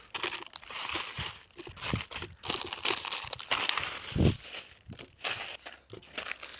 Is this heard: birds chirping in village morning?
no